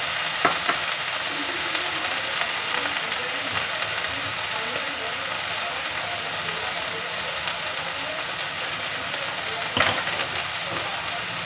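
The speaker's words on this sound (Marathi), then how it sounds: "मेथी फुल गॅसवरच परतायची शक्यतो." Fenugreek leaves stir-fry over a full gas flame, giving a continuous hissing sizzle with soft scraping stirs and a couple of sharper clinks, loud and close.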